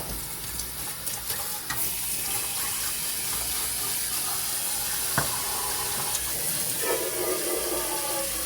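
Tap water runs steadily into a kitchen sink while a pan is washed, a broad hissing rush with occasional clinks and knocks, close and fairly quiet.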